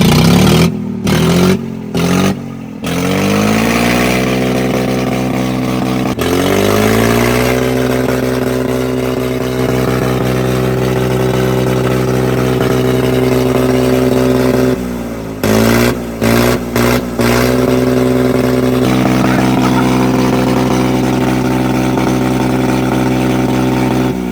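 A Mahindra Arjun Novo tractor runs with its silencer removed. The raw, loud engine roar rises and falls across several throttle blips near the start and again later, then settles into a sustained harsh drone.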